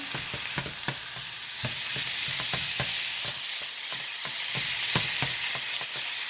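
Taco meat browns in a frying pan, giving a steady, close sizzle with frequent light scraping taps as it is stirred.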